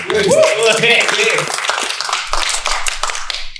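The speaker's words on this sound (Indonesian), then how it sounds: "Tepuk tangan." Clapping from a studio audience on an Indonesian comedy talk show, brief claps under loud, overlapping talk and laughter, fading into scattered taps by the end.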